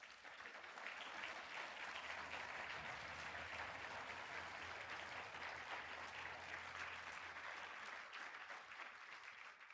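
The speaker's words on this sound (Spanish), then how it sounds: "Denle un aplauso al Señor." Congregation clapping during a church service, a steady dense wash of applause from many hands that holds for the full stretch, loud and continuous without letting up.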